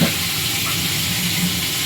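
Fish fries in a pan with a continuous, fairly loud crackling sizzle that holds steady from start to finish, with no talking.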